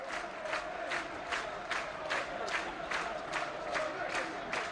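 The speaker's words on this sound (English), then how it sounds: "The crowd getting behind the lads." Supporters at a Burnley versus Leeds United football match in 2005 clap and chant in a steady rhythmic pulse, about two beats per second, carried by a broad crowd roar before a free kick.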